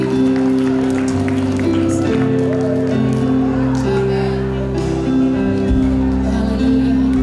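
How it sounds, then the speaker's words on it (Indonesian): A church congregation claps along during a worship service for a senior community, the dense applause blending with steady sustained instrumental music and a voice over the top throughout. "Mari beri tepuk tangan buat Tuhan Yesus sekali lagi."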